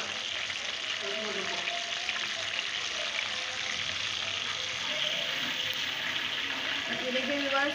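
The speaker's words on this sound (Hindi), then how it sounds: "हर तरफ से हमारे कबाब जो हैं वो फ्राई हो चुके हैं।" Beef gola kababs frying in hot oil, a steady close hiss and crackle of sizzling with faint clinks, with no talking over it.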